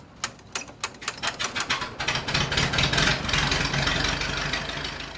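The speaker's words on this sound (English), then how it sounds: "They've got some them little hit and miss motors" Antique hit-and-miss engines run at a county fair: sharp, spaced clicking pops come first, then give way to a continuous, busy mechanical chugging nearby.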